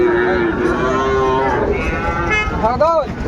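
A Sahiwal bull calf moos loudly and close by at a cattle market in Dinajpur, giving a long call and then a rising, wavering one over a steady murmur of crowd noise.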